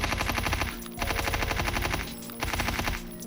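Automatic gunfire on a video game test range, sustained rapid bursts in three long volleys separated by brief pauses, loud and close with no talking.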